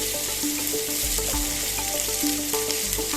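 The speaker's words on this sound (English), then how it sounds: "Saute this nicely till it turns aromatic." Garlic paste and aromatics sizzle and fry in hot oil for a Singapore-Malaysia style fish curry, a steady close crackle with light stirring and scraping noises, no one talking.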